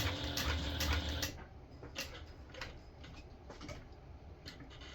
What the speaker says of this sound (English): I'm going to sew all the way across and then back stitch all the way